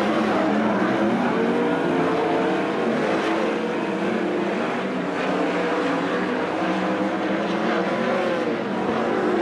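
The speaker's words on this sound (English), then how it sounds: "Slides up the banking, moved Tyler Gunn by Kevin Newton and into the 4th spot." Sprint cars racing on a dirt speedway at the Brad Doty Classic, a continuous loud roar of several engines sliding around a banked track, steady and close with no talk.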